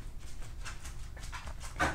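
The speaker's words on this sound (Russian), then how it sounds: "У меня собака сзади хрюкает." Dog grunting and snuffling in a room behind someone hand-knitting, a faint, low, uneven series of snorts and whimpery breaths, with one louder huff near the end.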